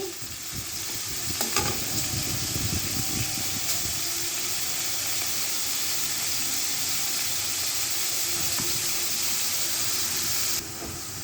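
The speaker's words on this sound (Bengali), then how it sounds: "হালকা আমি এখন একটু পেঁয়াজগুলা ভেজে নেব।" Chopped onions with garlic paste fry in a pan, giving a dense, steady, close sizzle with a steamy hiss throughout and a few light stirring scrapes near the start.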